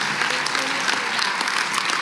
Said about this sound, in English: let's give a round of applause to Fairfield Regional Coordinator Tony Andre